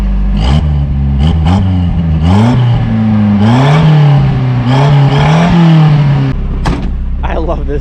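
Nissan Hardbody pickup truck engine revving repeatedly, loud and close, with engine pitch rising and falling in several blips over a rumbling idle, and a voice speaking over part of it.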